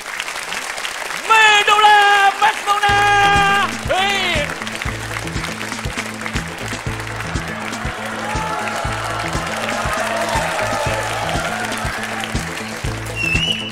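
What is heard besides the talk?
audience applause welcoming a singer at a comedy show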